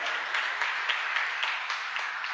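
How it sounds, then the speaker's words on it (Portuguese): Congregation applauding during a church missions service, a steady wash of many hands clapping at even volume, with a few sharper claps standing out. "Aplauda Jesus glorificando."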